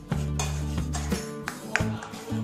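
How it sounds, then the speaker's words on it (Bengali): White and black mustard paste thinned with water and worked through a strainer, with repeated close metallic scraping and clinking against a bowl in an uneven rhythm. "ছাঁকনিতে করে ছেঁকে নেব।"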